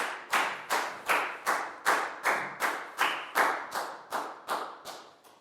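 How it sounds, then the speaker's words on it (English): A classroom of children in a Year 4 maths lesson claps in unison, about a dozen evenly spaced claps in a steady rhythm, fairly close and moderately loud with no talking over it. "High five and a big round of applause for Net."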